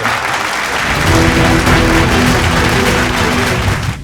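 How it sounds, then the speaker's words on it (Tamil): Loud, dense applause welcoming a state health minister at a public event, a sustained wash of many hands clapping that swells midway and fades sharply at the very end. "ஒரு பலத்த கரகோஷத்துடன் வரவேற்கின்றேன்"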